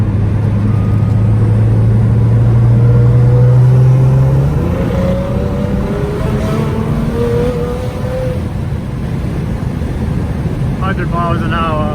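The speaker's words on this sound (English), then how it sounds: "The car is so fucking loud." Nissan GT-R R35 engine roaring loudly while driving, a steady dense drone with rising pitch sweeps as it accelerates through gears, heard from inside with wind noise and a voice talking over it.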